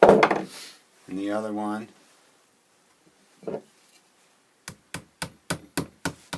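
Sharp hammer blows on rivets set in a wooden knife handle over a vise anvil, a run of six or seven quick evenly spaced strikes, close and crisp, after someone speaks briefly.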